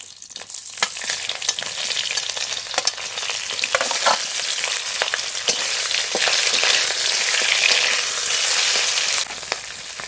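Fried fish goes into hot oil seasoned with whole cumin, bay leaf and radhuni, bursting into a loud, hissing sizzle that swells and holds, with scattered utensil scrapes and stirring knocks early on.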